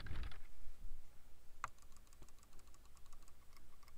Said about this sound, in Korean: 먼저 키보드와 마우스 버튼 클릭 소리입니다.